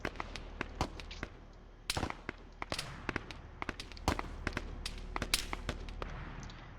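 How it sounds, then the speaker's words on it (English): Gunfire traded between squads in the Arma video game, with scattered sharp shots cracking at irregular intervals, some near and loud, others more distant, with no talking. "just the firing back and forth from these ground teams and these guys on the hill"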